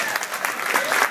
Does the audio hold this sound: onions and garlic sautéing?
no